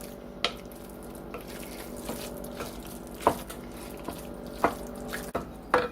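A spoon stirs olives into taco pie filling, giving soft wet scraping and a few distinct clinks against the pan over a low steady background hum.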